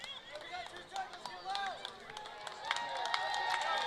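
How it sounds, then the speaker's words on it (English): A baseball crowd at a Pierre Trappers versus Red River Pilots game cheers and shouts loudly in the 8th inning, a sustained wash of voices, whistles and rising noise. "Crowd getting loud here, trying to will Caleb Hay through the 8th inning."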